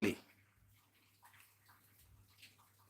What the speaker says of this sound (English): I'm using a pint of boiling water. And let's just pour in there slowly.